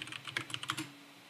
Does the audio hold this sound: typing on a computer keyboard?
yes